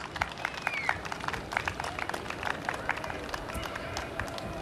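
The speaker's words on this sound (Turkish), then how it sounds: "Ben ablamızı güçlü bir alkışla sahneye almak istiyorum." An audience at a fair in Tatvan claps steadily and continuously as a woman is welcomed onto the stage, a dense patter of hands with speech in the room.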